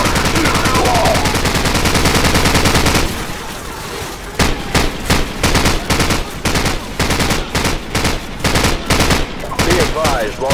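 Automatic machine gun fire in Call of Duty 4: Modern Warfare, during a swamp battle, with sustained dense bursts at first, then evenly spaced heavy single shots or short bursts, loud and close, with soldiers shouting underneath.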